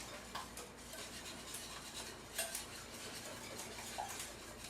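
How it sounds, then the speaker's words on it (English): A whisk beats ingredients in a bowl with quiet, repeated light metallic clinks and taps over a soft, steady background. "I'm going to give that a good whisk"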